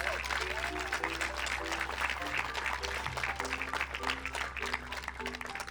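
Applause from a crowd gathered outdoors at a junior magnet school groundbreaking ceremony, steady clapping sustained for several seconds with a low hum beneath and tonal sounds layered over it.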